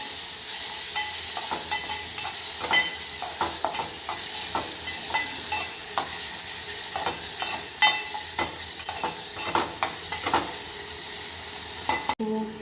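Tomatoes and green chillies stirred in a frying pan over a continuous sizzle, with repeated close scraping and clinking strokes of a spoon against the pan and no voices.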